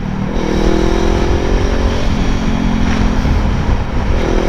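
A Voge 500R motorcycle engine while riding on a road trip, a loud, steady drone with continuous low rumble and a faint rising tone, close to the rider with wind noise throughout and no voices.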